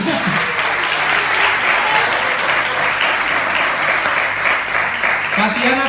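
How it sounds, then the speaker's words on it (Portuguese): Church congregation applauding in a service, loud, dense clapping sustained for several seconds, with some voices mixed in. "Pode aplaudir Jesus por isso."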